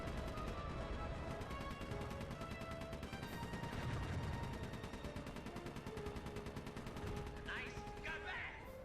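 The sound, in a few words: gunfire in the video game Sly 3: Honor Among Thieves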